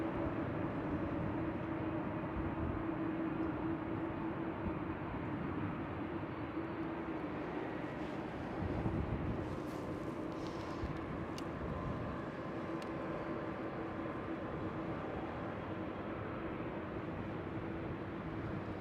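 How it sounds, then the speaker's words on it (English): A Cathay Pacific Airbus A350 airliner taxiing at Amsterdam Schiphol in windy weather, a steady broadband rumble and whine held at a constant level throughout, with wind noise and a brief louder swell partway through. "Cathay Pacific A350 is taxiing out"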